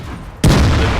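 A tank's main gun fires in World of Tanks, one sudden loud boom after a quiet start, with a broad blast that rolls on and holds loud to the end.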